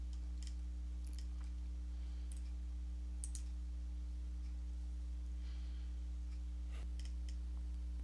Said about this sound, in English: you can click on the title of the article